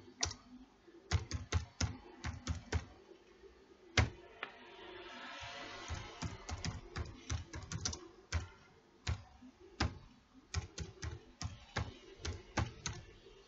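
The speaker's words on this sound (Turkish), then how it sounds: "Şimdi bunu buraya ben yazı yazıyorum." Someone types text on a computer keyboard, with quick close clusters of key taps separated by short pauses and a brief softer rustle near the middle, and no voices.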